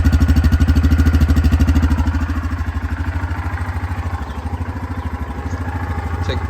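A Kodiak 450 ATV engine with factory exhaust idles close by with a steady, throaty putter, its rhythmic pulses holding even throughout with no one speaking.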